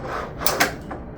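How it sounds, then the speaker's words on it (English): A slow-close drawer in a custom wooden hotrod boat dash slides shut with a couple of soft, close mechanical clicks and a brief damped rumble, heard alone and quietly. "this is the action on the drawer."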